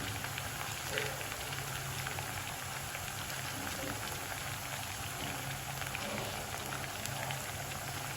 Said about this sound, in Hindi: अच्छी तरह से इनको फ्राई करेंगे हम पहले।